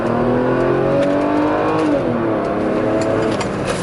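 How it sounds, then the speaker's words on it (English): A Mercedes-Benz W124 station wagon accelerates onto a highway, its engine rising in pitch through the gears with clear shift drops and climbing again, loud and close from inside the car, no talking. "That shifting, man, Jesus, just nice"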